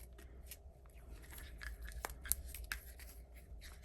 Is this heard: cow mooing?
no